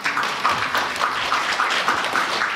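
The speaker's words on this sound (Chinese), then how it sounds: "让我们以热烈的掌声欢迎廖东洲大使及夫" Warm, sustained applause from a gathered audience at an evening Buddhist Amitabha practice session welcoming an ambassador and his wife, even clapping throughout with no talk over it.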